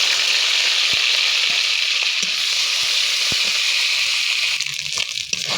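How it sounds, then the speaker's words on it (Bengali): Spices fry in hot oil with a steady, loud, hissing sizzle, broken by occasional soft taps of a spoon stirring in the pan. "তেলে পুড়িয়ে নিচ্ছি ভালো করে"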